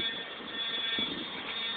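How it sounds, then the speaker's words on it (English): An elementary school's fire alarm rings at night as a continuous electronic buzzing tone, heard from some distance outdoors with faint background noise. "Somebody pulled the fire alarm."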